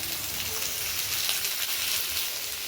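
Cooked ivy gourd frying with grated coconut in a pan, a steady close crackling sizzle with no pauses.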